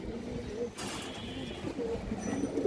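A male pigeon coos in a low, throaty murmur, close by, with a burst of noise partway through and the cooing continuing underneath.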